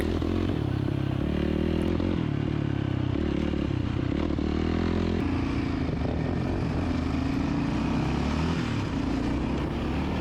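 Engine of a first-generation Yamaha Raptor 700R ATV riding a rough trail, a loud continuous drone with steady rattling and clatter throughout and no talking.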